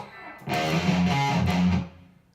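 A distorted electric guitar plays a short, heavy breakdown riff, starting on the low string with a slide, loud and alone for about a second and a half before ringing off.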